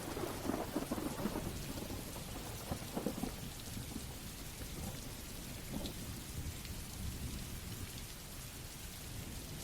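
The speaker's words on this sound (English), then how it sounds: "it sounds like thunder in the distance and perhaps a light pattering of rain" Distant thunder rumbling beneath light, steady rain pattering on a surface, a continuous soft wash of drops with low rolls of thunder swelling early on and no voices.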